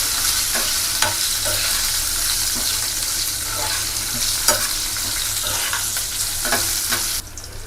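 Slit green chillies frying in hot oil in a pan, a loud, dense sizzle with occasional pops and utensil taps, continuous and close.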